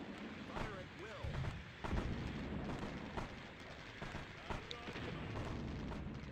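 Artillery fire in a strategy video game, booming repeatedly through a dense battle din, with spoken unit voice lines and other talk layered over it.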